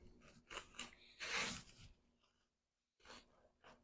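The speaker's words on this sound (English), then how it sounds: "So we're going to cut said bread." Knife sawing through a loaf of rustic bread, several short rasping crunchy strokes, close and fairly quiet, with a brief pause before the last cuts.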